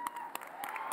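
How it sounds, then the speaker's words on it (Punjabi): A packed audience claps for the judges at the Miss PTC Punjabi 2018 grand finale, a dense burst of hand-claps filling a brief moment. "ਇੱਕ ਵਾਰ ਜ਼ੋਰਦਾਰ ਤਾੜੀਆਂ ਜੱਜਸ ਲਈ ਵੀ।"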